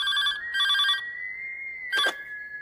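A telephone rings late at night in a comedy film scene: two quick electronic ring bursts, a lingering tone, then another short burst, all close and clear with no talking.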